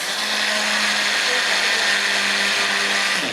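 Toasted sesame seeds and peanuts are whizzed in a blender for a short, steady, loud burst of a few seconds, a high grinding whine that cuts off abruptly at the end.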